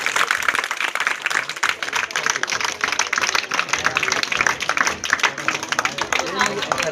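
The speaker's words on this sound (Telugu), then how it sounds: "కాబట్టి అందరూ సార్ కోసం గట్టిగా క్లాప్." Clapping from an audience honouring a guest at a felicitation event, a dense, close patter of many hands continuing steadily, with voices talking over it.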